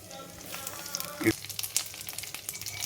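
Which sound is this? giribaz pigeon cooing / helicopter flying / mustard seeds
mustard seeds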